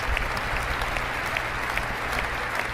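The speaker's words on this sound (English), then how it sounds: "you see a lot of the applause from the crowd" Sustained applause from a crowd at a political speech on energy, a dense steady wash of many hands clapping throughout, fairly loud and with no break.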